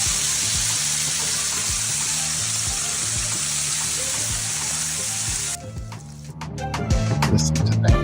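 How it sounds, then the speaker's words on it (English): Jalapeno bacon frying in a pan gives a loud, close, continuous sizzle with rhythmic bubbling pops, and the crackle turns sharper and sparser near the end. "Listen to that sizzle."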